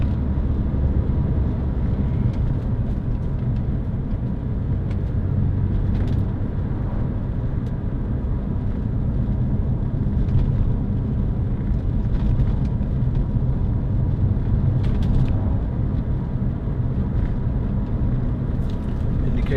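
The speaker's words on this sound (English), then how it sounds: "Nice noise from the engine, good exhaust sound." Inside a 2006 Toyota MR2 1.8 VVT-i roadster with a soft top, the engine and exhaust hum steadily while driving, a constant low cabin drone with wind noise and occasional faint creaks.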